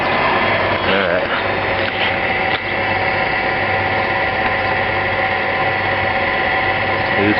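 A Sioux model 622 N valve grinder runs with its pump circulating fluid, a steady mechanical whir and hum with a faint rattle, close by and continuous.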